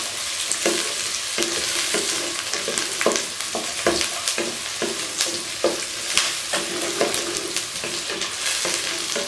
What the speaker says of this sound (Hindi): और अब हम इनको 3 मिनट तक फ्राई करेंगे